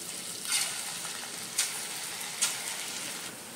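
Ingredients for bottle gourd kofta curry frying in a pan, a steady close hiss of sizzling oil with a few brief louder spits or stirring scrapes.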